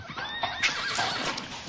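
A horse neighing in a stable, a short bright whinny with rising and falling tones and some faint clip-clop underneath, close and fairly loud with no talking.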